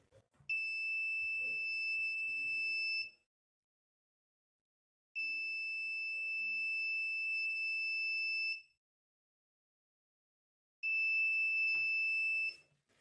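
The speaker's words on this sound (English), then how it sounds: "Now you're ready to test this home security alarming system." An Arduino home security alarm buzzer triggered by a PIR sensor sounds three loud, piercing, steady electronic tones, each lasting about three seconds, separated by silent gaps.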